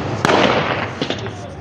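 Gunshots of live ammunition fired during a violent political clash in Imo State, heard as a sharp crack followed by a few more pops within loud crowd noise and shouting voices.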